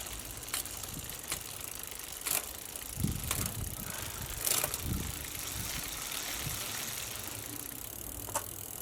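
A bicycle drivetrain freshly converted to an LTWOO A7 1x10-speed setup runs steadily with a soft whirring hiss, broken by a few sharp clicks and ticks, close and fairly quiet, with no talking.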